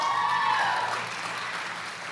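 A church audience claps together, a dense, steady wash of applause that fades slightly toward the end of a short burst, with no talk.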